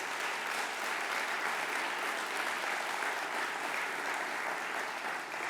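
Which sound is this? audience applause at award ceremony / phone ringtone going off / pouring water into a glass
audience applause at award ceremony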